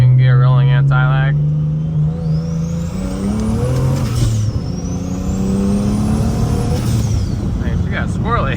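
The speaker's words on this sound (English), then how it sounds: "Okay, second gear rolling anti-lag." A big single-turbo BMW 335i in second gear makes a rolling anti-lag pull, its engine droning and climbing in pitch with loud whooshing turbo and intake noise close by, plus a short burst of raspy crackle near the start.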